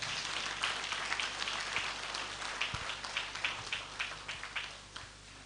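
Conference audience applauding, a sustained dense crowd clapping heard from within the hall, with scattered sharper claps as it gradually fades.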